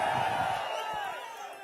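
Crowd cheering at a political election rally in Palladam, Tamil Nadu, a broad roar of many voices that stays steady and then slowly fades over under two seconds.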